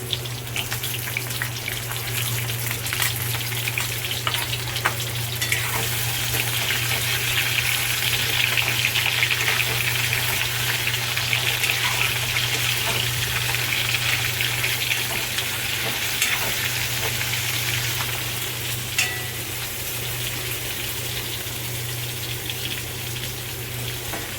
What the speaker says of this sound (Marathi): हे अशी वांगी थोडी आपल्याला तेलात ठेवून हलवून घ्यायचे आहे